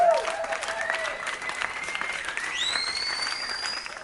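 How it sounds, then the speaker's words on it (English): An audience applauds a guest DJ on a talk show, with steady clapping throughout while tonal whistling or synth-like sweeps ring over it. "So let's give him a big round of applause."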